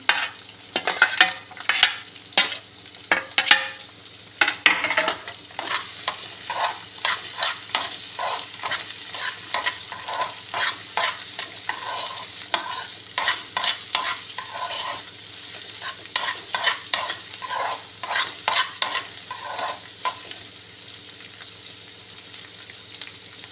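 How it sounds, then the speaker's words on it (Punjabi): Capsicum and carrots stirred and lightly roasted in a hot pan, steady sizzle broken by frequent scraping and clattering strokes of a spatula throughout, close up with no talking. "ਆਪਾਂ ਇਹਨੂੰ ਬਾੜਾ ਬਰਾਊਨ ਨਹੀਂ ਕਰਨਾ ਹੈਗਾ ਜੀ ਹਲਕਾ ਹਲਕਾ ਜਿਹਾ ਰੋਸਟ ਕਰਨਾ"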